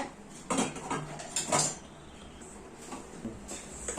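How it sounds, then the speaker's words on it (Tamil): A ladle mixes rice flour dough in a metal pot for paal kozhukattai, with irregular scraping clanks and knocks close by, a few louder strikes in between, and no talking. "இது ஒரு கரண்டி வச்சு மிக்ஸ் பண்ணிக்கோங்க"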